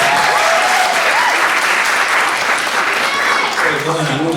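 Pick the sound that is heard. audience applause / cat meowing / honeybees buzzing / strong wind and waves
audience applause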